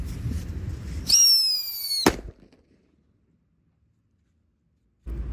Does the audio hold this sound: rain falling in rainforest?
no